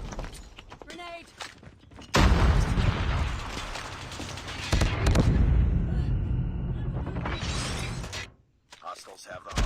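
A frag grenade detonates in Call of Duty: Mobile as a loud, dense blast of booming, crackling impact noise that sustains for several seconds, with game voice callouts and mechanical clatter around it.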